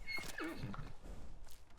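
A horse in the Skyrim video game gives a loud, close whinny that falls in pitch, with hoofbeats clopping beneath it, over about two seconds.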